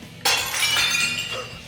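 Compact discs are smashed, giving a sudden loud shattering crack followed by a bright, scattering clatter of fragments that fades after about a second.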